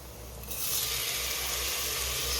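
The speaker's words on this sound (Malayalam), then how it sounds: "നെയ്ച്ചോറിൻ്റെ അരി കഴുകിയത്" Water runs and splashes steadily as ghee-rice grains are washed, starting softer and then swelling into a constant close rushing sound for the rest of the moment.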